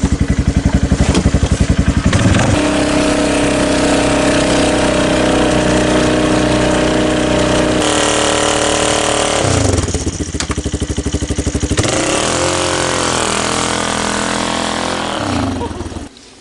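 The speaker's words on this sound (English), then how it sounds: "Pretty easy to test the four-wheel drive in the winter. Just drive to a snowbank." A Polaris Sportsman 500 HO ATV engine revs hard while its four-wheel drive churns in a winter snowbank, a loud, close buzzing drone that surges and dips repeatedly over about sixteen seconds before cutting off.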